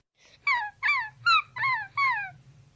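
A dog whimpers in five distinct high, drawn-out whines, evenly spaced and fairly close, each sliding downward in pitch, over a faint low background hum.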